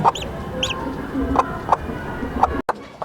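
A desi hen gives a few short, soft clucks, close by, over low farmyard background noise.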